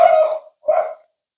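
A small dog at home gives two short, loud barks close by, the second slightly shorter, followed by silence.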